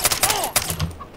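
A semi-automatic F1 pistol in Far Cry 3 fires a few sharp, loud shots in quick succession, each a short crack with a brief tail, with no voices over them.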